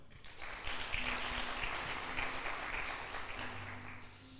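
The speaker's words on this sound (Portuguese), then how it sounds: "Aplausos ao Senhor, então." A Sunday church congregation applauds, a quiet, distant wash of clapping with a low hum underneath, faint and steady throughout.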